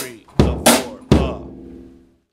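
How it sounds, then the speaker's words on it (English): Three quick drum hits from a kit, snare and bass drum struck close and loud in a short triplet figure, ringing out and fading to silence. "And the triplet will come from the snare and the bass"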